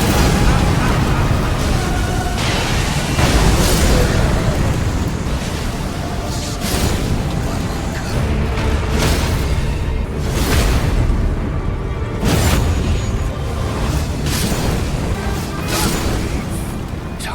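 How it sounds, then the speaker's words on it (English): Elden Ring Magma Guillotine fire attack of the Magma Worm Scale Sword, a dense roaring whoosh of flames with repeated booming bursts of fiery impacts, loud and continuous. "the Magma Guillotine skill truly elevates the Magma Worm Scale Sword. This fiery attack deals significant fire damage"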